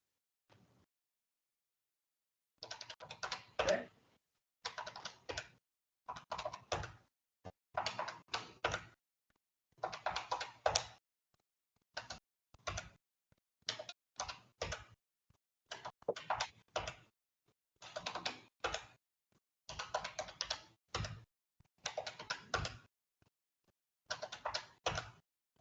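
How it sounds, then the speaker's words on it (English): Someone types furiously on a computer keyboard in repeated quick bursts of clattering keys separated by short pauses, fairly quiet and with no voices. "So somebody's typing away furiously."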